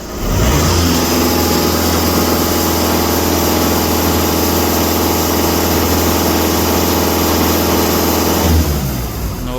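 An Audi A4 B7 engine idles at a steady, continuous low hum with an even, unwavering tone throughout, without any clear revving, and it cuts off near the end of the stretch.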